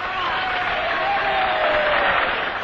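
A huge street crowd of around 100,000 people cheers the England-to-Melbourne air race aviators in 1934, a steady dense roar of voices and applause that holds constant and distant-sounding throughout.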